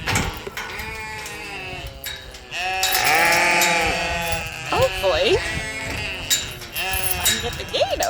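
Hungry sheep on a farm bleat loudly and repeatedly, several overlapping calls close by, with a person talking among them.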